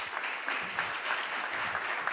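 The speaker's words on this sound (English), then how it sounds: "Please give a round of applause for our panel." An audience applauds a panel at a hospital-care talk in Manatee County, a dense, even wash of clapping hands sustained throughout at moderate volume with no voices over it.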